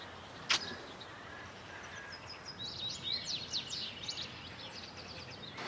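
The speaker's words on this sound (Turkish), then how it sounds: "Ne güzel ötüyor kuşlar ya." Birds singing in the early morning, with a string of faint, high chirps and trills at a distance after one sharp nearby call, over a quiet background.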